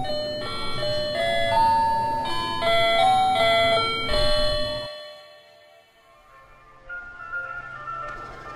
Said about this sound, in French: la chanson des camions qui livrent du fioul domestique